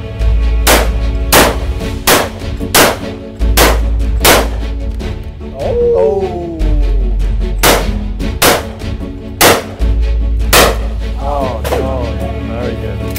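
Shotguns fire at clay targets in a series of loud, sharp blasts at uneven intervals, about ten shots. Voices are also heard between some of the shots.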